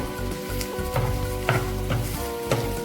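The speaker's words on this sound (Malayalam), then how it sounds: "ഉള്ളി നന്നായി എണ്ണയിൽ കിടന്ന് വഴണ്ട് വന്നിട്ടുണ്ട് ഇതിൽ ഞാൻ അരച്ചു വെച്ച തേങ്ങ ചേർക്കുകയാണ്" Ground coconut added to onions sautéing in oil in a pan, a continuous close sizzle punctuated by regular scraping stirs and clinks of a spoon against the pan, fairly loud with no speech.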